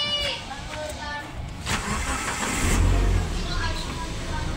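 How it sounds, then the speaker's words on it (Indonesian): A Proton Saga with a 1400 cc four-cylinder engine cranks and starts, its low rumble building toward the end and settling into a steady idle, with someone talking over it. "Sekarang kita coba nih starternya."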